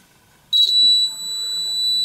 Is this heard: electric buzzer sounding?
yes